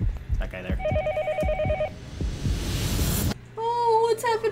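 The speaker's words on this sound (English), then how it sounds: "There is a phone ringing." A telephone rings in the horror video game Yomawari 3, with a repeating electronic ring tone over game sounds, followed by a higher warbling tone, while people talk over it.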